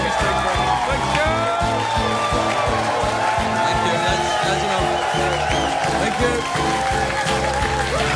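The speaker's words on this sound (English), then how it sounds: "Thank you very much for that completely genuine applause." Studio audience applause at a late-night talk show, a broad wash of clapping and crowd noise blended under loud band music that plays throughout.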